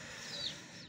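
Soft, continuous clucking from a few Indian hens close by, with a low farmyard murmur underneath and no talking.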